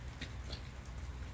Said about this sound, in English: it's just really raining.